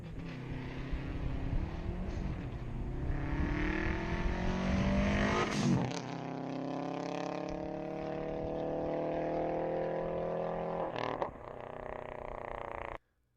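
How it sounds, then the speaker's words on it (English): Subaru four-cylinder car engine revving hard with a rising, burbling exhaust note, dropping off mid-clip then climbing again in steady swells, loud and close, before cutting out at the end. "I love the sound of my Subaru, man. It's not fast, but it sounds amazing."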